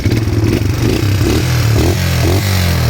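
A Suzuki 250cc ATV engine, turned on with the original key and the starter button, runs close and loud in a steady, throbbing mid-pitched idle with faint rhythmic clatter.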